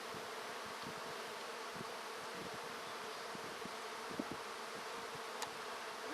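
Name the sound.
honey bees buzzing in a tilted hive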